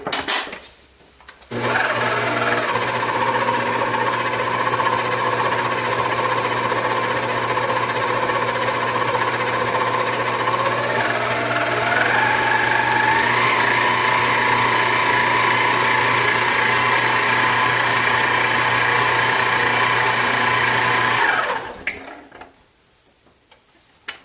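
An electric mixer whirs steadily through cheesecake brownie batter with flour, starting abruptly, rising in pitch as the speed is turned up partway through, then stopping near the end.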